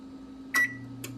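A kitchen oven's timer is keyed in, giving two short electronic beeps about half a second apart over a steady low appliance hum.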